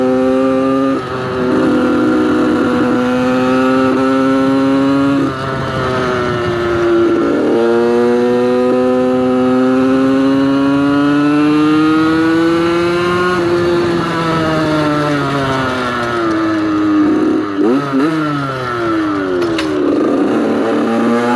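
A motorcycle engine revs close up as the throttle opens, its pitch climbing and falling through repeated surges, loud and continuous with no talk over it.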